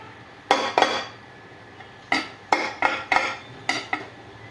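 A spoon stirs spring onions into eggplant bharta in a pot, giving bursts of clinking and scraping against the metal. The strokes come in uneven groups with short pauses between them, close up and with no talk.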